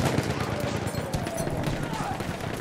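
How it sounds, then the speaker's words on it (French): Dense machine-gun fire and overlapping gunshots in a World War I battle game at Tahure, a continuous rattling fusillade with voices heard over the chaotic din. "Attention, mitrailleuse."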